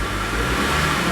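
A warmed-up Honda BR-V 2022 Prestige engine revs gently, a steady, smooth mid-range drone from inside the car with no sharp peaks, alone and without talk.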